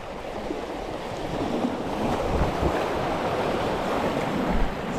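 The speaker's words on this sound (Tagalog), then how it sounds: "Malakas lagi alon." Strong ocean surf rolls in steadily at a coastal fishing spot, a continuous loud wash of breaking waves mixed with wind buffeting the microphone, swelling slightly over a few seconds with no voices.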